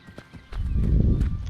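Horse hooves clopping in a video game, faint steps at first, then a louder rumbling gallop with sharp hoof strikes and a low snorting neigh.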